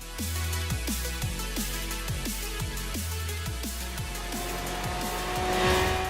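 Lamborghini in Forza Horizon 3 driving hard, its engine note climbing through repeated rapid upshifts with a steady loud roar and a faint tire squeal building toward the end.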